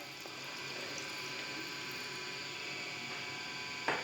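Cold water poured into a grinder jar holding grapes while making grape juice at home gives a steady, soft, close hiss of running water that lasts throughout, with a small clink at the end.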